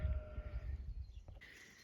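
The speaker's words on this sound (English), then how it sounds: "The sheep hate it when they are last on my list." Sheep bleat on an off-grid homestead farm, one wavering nasal call up close and fairly loud, followed by a brief higher bleat at the end, with no speech over it.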